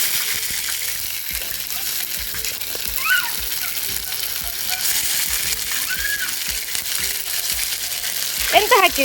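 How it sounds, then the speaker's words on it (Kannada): Ginger garlic paste frying in mustard oil for an onion chicken dish makes a loud, continuous close sizzle with bubbling, plus occasional stirring scrapes and a brief burst of crackle near the end. "ಶುಂಠಿ ಬೆಳ್ಳುಳ್ಳಿ ಪೇಸ್ಟ್ ಇದನ್ನು ಕರೆಕ್ಟ್ ಫ್ರೈ ಮಾಡಬೇಕು"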